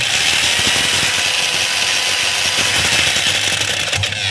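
A DeWalt D25144 rotary hammer drill in drill mode whirs loudly and steadily up close, faulty, its motor noise harsh and gritty with a slightly uneven, rattling texture, rotation stopping and starting.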